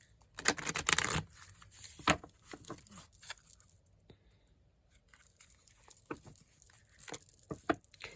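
A deck of cards shuffled in a lap, giving quick papery riffles and soft patter in short bursts separated by pauses, close and fairly quiet with no talking.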